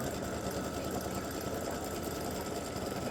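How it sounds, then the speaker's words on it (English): An embroidery machine sews a satin stitch around an appliqué bow, giving a loud, steady, dense mechanical whir with rapid needle chatter that runs unbroken throughout. "So it's going to do a satin stitch all the way around the bow."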